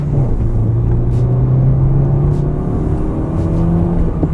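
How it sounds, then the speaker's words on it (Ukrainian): A Renault Modus 1.2 16v hatchback accelerates at full throttle, its engine droning loud and close from inside the cabin with a steady rising hum and road rumble, with no voice over it. "Давайте я зупинюсь і попробую максимально, максимально швидко розігнатися"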